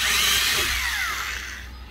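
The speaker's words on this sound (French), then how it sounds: "je reperce l'axe pour pouvoir le percer de l'autre côté pour pas tout exploser au débouchage" A power drill bores through a wooden bed-base panel, re-drilling the axis to avoid blowout on the far side; the whine is loud and close, tapering in pitch, with no talk.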